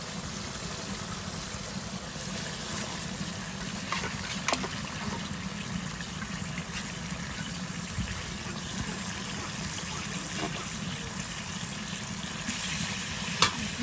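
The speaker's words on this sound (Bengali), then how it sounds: "আমি হচ্ছে এখন মাংসটা দিয়ে দিব বেশি না অল্প একটু রান্না করবো" Meat frying in oil in a home kitchen pan, a steady close sizzle with scraping stirring strokes and a few light clinks running throughout, no talking.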